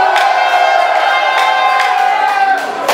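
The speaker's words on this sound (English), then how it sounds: "If you say Escar, then make some noise" A loud crowd at a Trinidad sound clash event roaring, cheering and whooping together in a continuous burst, with a few sharper shouts standing out.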